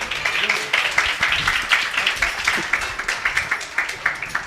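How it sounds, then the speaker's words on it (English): Audience at a Sunday School annual day program clapping steadily, a dense run of hand claps lasting throughout, moderately loud and close. "Kindly loudly clap your hands, please."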